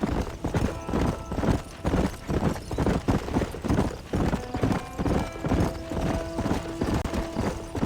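Horse hooves clip-clop steadily in the western video game Red Dead Redemption, a continuous rhythmic gait over game ambience and a low musical bed, close and prominent with no speech.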